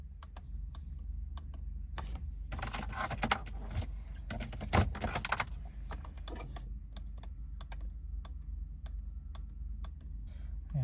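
A Smart Roadster's ignition key is turned off and back on, giving small metallic clicks and key jangles in a cluster, then lighter ticking against a faint low engine or cabin hum.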